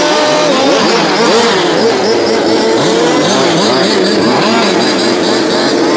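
Model race car engines buzz loudly and continuously at a racetrack, several high-pitched small motors revving and whining over one another close by.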